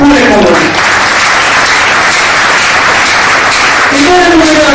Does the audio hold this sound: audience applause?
yes